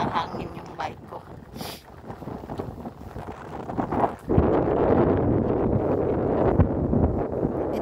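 Wind rushing past while riding a bike outdoors in Germany in autumn, quieter and broken at first, then a loud, steady roar of buffeting against the microphone for the second half, with a person talking early on.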